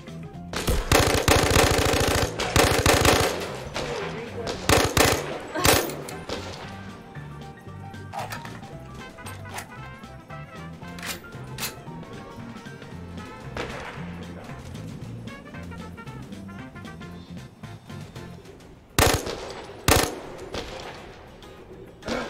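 Gunfire from a gun in the VR shooter Zero Caliber, bursts of rapid loud shots with clattering impacts, fading to a quieter stretch before more sharp shots near the end.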